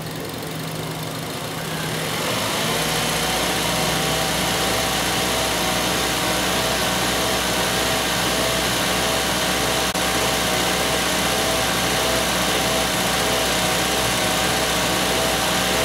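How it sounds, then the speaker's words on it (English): A Mazda engine with an air-fuel ratio sensor fault climbs from idle to a steady higher RPM, a loud continuous drone close by with no voices. "I'll try to get it up into a higher RPM, see if you can hear it."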